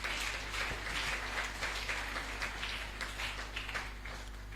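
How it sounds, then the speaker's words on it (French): A church congregation applauding and cheering, a dense continuous wash of clapping over a low steady hum, holding at an even level throughout without a break. "Acclamons encore très très fort pour le Tout-Puissant"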